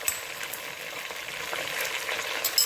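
Mutton trotters (paya) fry in a pan with ginger garlic paste, giving a steady close crackling sizzle with small spatters and stirring scrapes, no voice over it.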